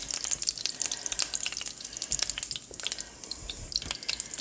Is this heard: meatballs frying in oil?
yes